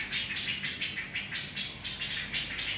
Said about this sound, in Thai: มีเสียงนก